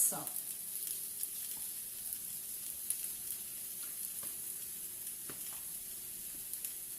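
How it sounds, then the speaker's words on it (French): Chicken nuggets and beans cooking together in a pan, giving a quiet, steady frying hiss with a few soft clicks from stirring. "mes haricots vont bientôt être cuits en même temps que mes nuggets"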